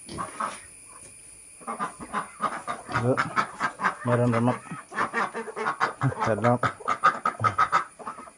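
Chickens cluck in a farmyard beside a pigsty, with ducks kept outside; the soft, scattered clucks carry on under someone talking steadily close by.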